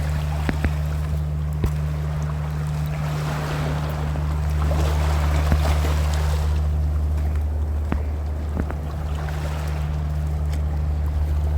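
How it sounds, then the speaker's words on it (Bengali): Waves wash and lap against stones set along a shoreline, with a boat on the water nearby. A steady broadband rush swells and eases under a constant low engine-like hum, broken by a few sharp knocks, and nobody speaks. "ওই যে ঢেউগুলো।"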